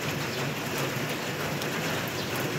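Steady rain falls at dawn, a continuous dense hiss of drops with no pauses and no voices.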